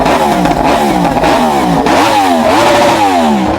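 A 2016 Yamaha R1 sport motorcycle revs hard nearby, its engine pitch climbing and dropping in repeated loud sweeps with a rough, clattering edge.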